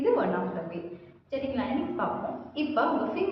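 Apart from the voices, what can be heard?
No everyday noise stands out behind the speech.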